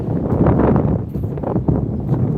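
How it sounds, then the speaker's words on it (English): Strong wind buffets an outdoor microphone in a steady low roar with gusty rumbles, loud and continuous for the whole stretch. "It's a little bit windy out here."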